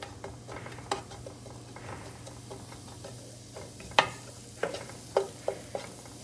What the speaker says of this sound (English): And then I'm gonna mix it.